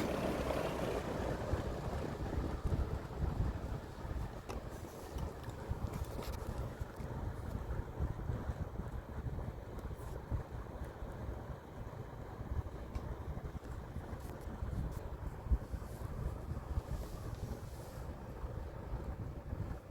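A vintage Sears 20-inch whole house fan runs on low speed in intake mode, giving a steady, fairly quiet broadband whoosh with a low hum underneath that holds constant for the whole stretch.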